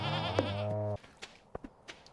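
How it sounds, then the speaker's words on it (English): A single loud, drawn-out goat bleat sounds from grown goats in the farming video game Stardew Valley, ending abruptly and leaving a few faint clicks and soft thuds. "Oh, my goats are finally grown up!"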